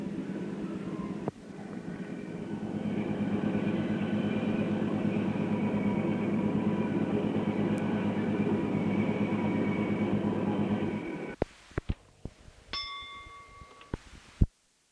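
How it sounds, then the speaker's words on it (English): A train on the Columbia & Western Railway switchback rounds a big loop and starts up a long tangent, a steady loud rumble of wheels and cars holding for about ten seconds, then giving way to scattered clanks and dings at the end. "The train has just proceeded around the big loop on the switchback and is now beginning to go up the long tangent"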